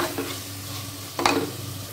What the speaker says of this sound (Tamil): 1 கைப்பிடி கட் பண்ண புதினா, அதே அளவுக்கு மல்லி இலை, நல்லா வதக்கிக்கலாம்.